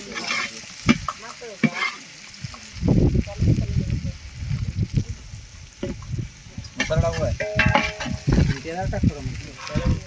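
Ingredients sauté and get stirred in a pan for a spicy village meal, sizzling steadily with scraping strokes while voices talk nearby.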